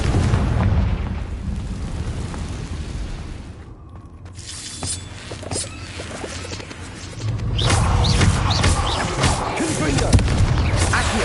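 Repeated fiery blasting-spell explosions in a wizarding video game, booming bursts over a dense background of game music and effects, with a busier burst of impacts near the end.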